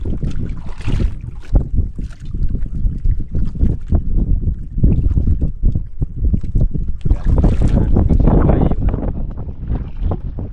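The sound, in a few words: boat (bangka) approaching on the water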